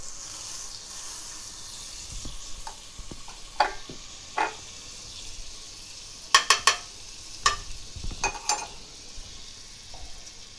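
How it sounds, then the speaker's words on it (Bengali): Butter sizzling in a hot frying pan before eggs and bread go in, a soft steady frying hiss with scattered crackles and a few sharp clinks of utensil against pan, fairly quiet and close, no talking. "ফ্রাই প্যানটা গরম হয়ে গিয়েছে, এখন মাখন দিয়ে দেব।"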